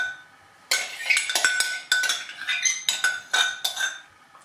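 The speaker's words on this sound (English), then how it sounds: "So once you get it in there, you need to start mixing." Soda bread dough being mixed in a bowl, a run of clinking scrapes and taps of a utensil against the bowl, close and rhythmic, with no talk.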